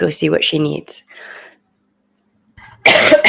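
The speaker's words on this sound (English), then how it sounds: "Man, this cough is really something." A single short cough from a young child a little way off in a quiet room, framed by someone talking before and after it.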